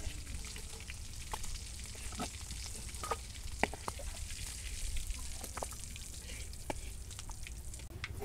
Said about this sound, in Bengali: এখন চিংড়ি মাছ ভুনার জন্য এই তেলের ভিতরে পেঁয়াজ কুচি দিয়ে দিলাম।